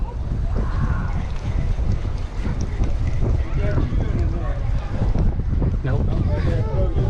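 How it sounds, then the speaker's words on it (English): Wind buffets a fishing boat on a windy day with a steady rough rumble and gusty noise across the mic. People talk over it throughout. "That was just the wind, I think."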